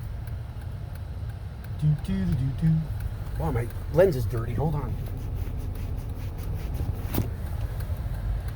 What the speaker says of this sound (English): Going to let all this traffic go by.